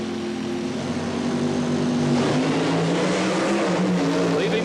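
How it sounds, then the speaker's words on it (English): A supercharged methanol-fuelled funny car and dragster at the 1977 NHRA Springnationals drag race, a loud sustained engine roar that rises in pitch as the cars pull away, with a commentator's voice underneath. "that classic struggle between funny car and dragster, both of them utilizing methanol for fuel, supercharged engines"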